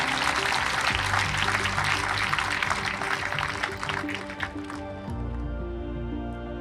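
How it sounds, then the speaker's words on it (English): Audience applause at a talk, heard as a dense, steady wash of clapping that holds for about five seconds before fading out, with a low hum underneath. "So I think that really deserves a round of applause."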